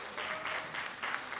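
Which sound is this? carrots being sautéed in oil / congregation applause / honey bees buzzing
congregation applause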